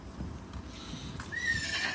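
A mare for sale at an animal market whinnies and neighs near the microphone over a steady background, with faint hoof clip-clops underneath.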